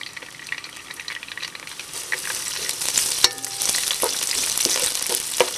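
Garlic drops into a tablespoon of hot cooking oil and sautés, a bright sizzle building in intensity with occasional scraping of a utensil stirring, close and without talk.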